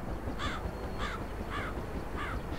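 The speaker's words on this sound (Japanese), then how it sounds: "砂漠にもカラスいるんだ" Crow caws in the Henry Stickmin airship game: four separate harsh calls spaced about half a second apart, standing out clearly over a steady noisy background.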